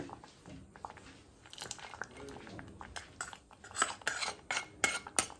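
A spoon clinks and scrapes against a pot as fried cashews and raisins are added to sweet pongal, with close, irregular metallic taps growing louder toward the end.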